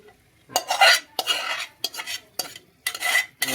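Marinated chicken being stirred into gravy in a pot, five or six distinct scraping and sloshing strokes of a spoon against the metal, close and wet, separated by brief pauses.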